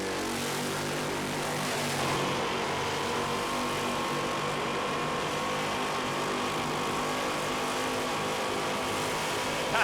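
Toyota Hilux engine roaring steadily at high revs during a burnout at Summernats, loud and continuous with crowd noise, never easing off.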